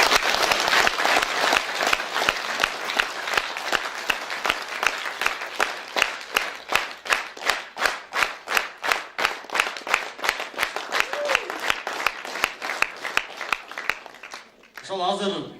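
Audience members applaud poet Aigerim Kozhobekova at her first creative evening, starting as dense clapping that gradually settles into slower, rhythmic unison claps before fading, with a voice briefly audible at the end.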